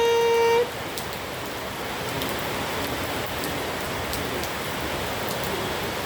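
Steady rain hisses down in Ghana, a dense, even patter of drops close by after a brief tone at the start, with no talk.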